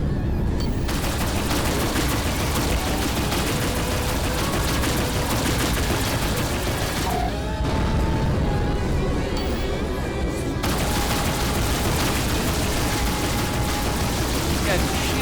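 Enemy ships in the space combat game Rebel Galaxy Outlaw fire in loud, continuous barrages of weapon blasts and explosions throughout, with a brief lull midway, while someone talks over the action.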